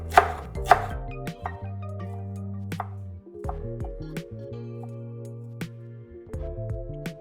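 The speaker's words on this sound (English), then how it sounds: "just chop the dill and the parsley and cut your radishes as well" Sharp knife taps on a cutting board ring out in an uneven series over quiet background music, close and crisp, as dill, parsley and radishes are chopped.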